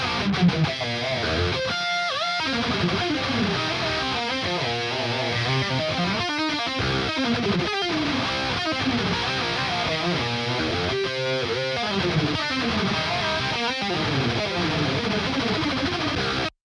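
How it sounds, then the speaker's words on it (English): A raw, heavily distorted rhythm electric guitar chugs through a dense riff for the whole stretch, loud and continuous with short palm-muted stops, with no voices. "What you just heard is actually the raw guitar tone."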